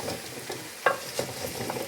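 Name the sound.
stirring pumpkin and butternut soup in a large pot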